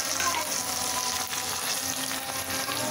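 Peeled tomatoes with red chilli powder and salt frying in a pan for a pumpkin and beef dish, giving a dense steady sizzle with soft stirring throughout, near and without talk.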